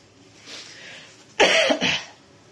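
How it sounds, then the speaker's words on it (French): A loud, close cough in two harsh bursts, following a quieter breathy rustle. "Je commence à tousser comme ça là."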